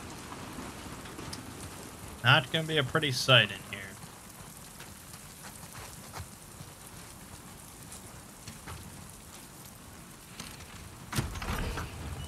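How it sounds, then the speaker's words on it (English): Rain falls steadily in The Last of Us Part II, a soft constant patter under the game's audio, with a voice speaking briefly early on and a few short thuds and noises. "Let's get out of the rain."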